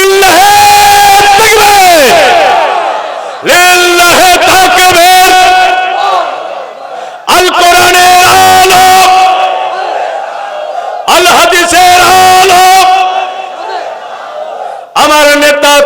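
A huge rally crowd roars a takbir chant back to an open-air sermon preacher, four loud massed bursts of voices rising together, each fading out before the next swells in.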